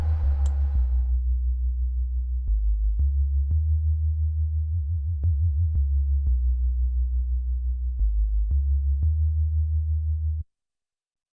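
A synth patch in Ableton Operator holds a low, steady sine-like bass tone, with an LFO on the volume making it pulse and wobble in places. Soft clicks tick over it now and then, and there is a brief noisy burst at the start.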